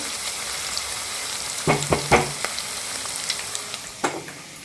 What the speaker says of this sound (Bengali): আমি পেঁয়াজটাকে একটু ব্রাউন করে ভাজবো